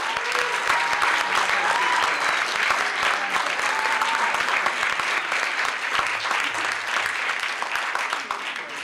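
Sustained applause from a crowd at an audiology white coat ceremony honoring the graduating class, steady dense clapping filling the hall for nearly nine seconds without a break.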